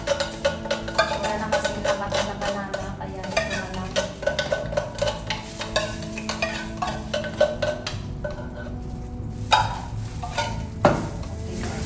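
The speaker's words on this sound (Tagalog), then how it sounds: "Let's mix it again." A spoon or spatula stirs fruit salad with condensed milk in a bowl, giving a continuous wet, clicking mix with scraping knocks against the dish, close and steady throughout.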